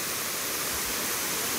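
Waterfall at Dapur in a busy outdoor spot, heard as a steady, broadband rush of falling water, loud and continuous with no break.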